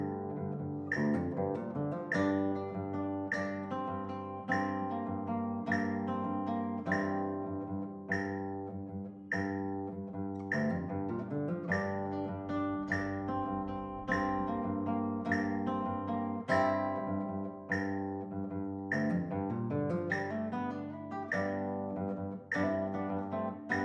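Guitar melody played in thirds, index and middle fingers plucking two strings together; a steady run of evenly spaced, close-up paired notes rings on alone for the whole stretch.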